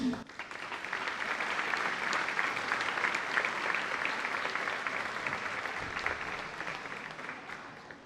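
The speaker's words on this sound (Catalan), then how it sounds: "Un fort aplaudiment per ells" An audience at an end-of-year municipal music school concert in Puig-reig breaks into sustained applause, many hands clapping loudly and evenly for several seconds before easing slightly.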